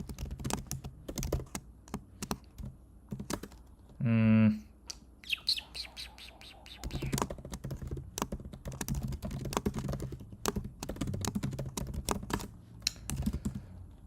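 Rapid, irregular clatter of fingers typing code on a computer keyboard, steady and close throughout, with a brief squeaky chirp and a few soft tonal bursts breaking in near the middle.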